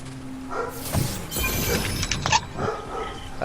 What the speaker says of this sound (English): I'm just my dogs are barking at.